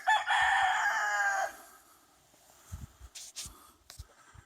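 A rooster crows loudly and close by for about a second and a half, followed by quieter scattered clucks and scratching from a flock of free-ranging chickens on a mountain homestead.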